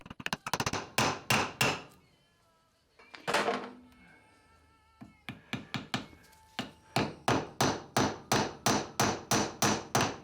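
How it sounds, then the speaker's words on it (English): A hammer strikes steel pins being peened into a stainless steel and purpleheart miter plane, a near, loud series of sharp metallic blows in rapid regular runs, pausing briefly before resuming at an even beat. "all this is going to get peened and deformed, and it should fill up and kind of manually lock itself in"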